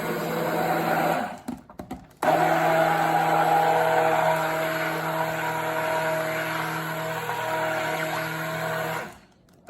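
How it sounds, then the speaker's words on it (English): A blender whirs steadily as kaolin clay is mixed into an oil mixture for soap, starting briefly, cutting out, then running in one long continuous steady drone before stopping. "So I just want to blend this into the oil real quick so it's not clumpy."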